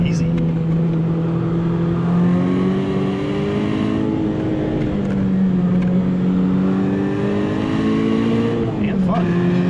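A 1990 BMW E30 M3 Sport Evolution engine hums steadily from inside the cabin as the car is driven, the drone rising and dipping with gear changes, with a person talking over it.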